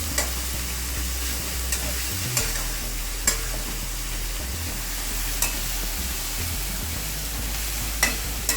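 Cabbage and potato sabzi stirred slowly in a kadai, a steady sizzle of frying with soft scraping strokes and a few sharp clinks of the spoon against the pan at irregular intervals; no talking.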